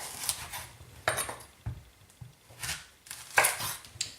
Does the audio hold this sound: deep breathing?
no